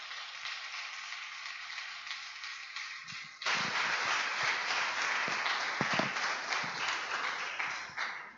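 A church congregation at a family worship service bursts into applause, rising abruptly from softer background noise into sustained crowd clapping at moderate distance, with a few sharper claps standing out.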